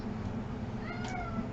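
A single short meow from a cat, heard indoors against a steady low background hum, fairly close but not loud.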